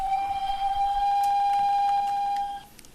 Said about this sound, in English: Hopefully that whistle didn't deafen you the same way it deafened me the first time I heard it